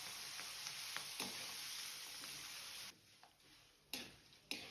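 Handful of washed, dried curry leaves frying in a hot kadai of tempering with red chilli, the stove switched off: a steady broadband sizzle that drops lower near the end, broken by a few sharp pops and crackles.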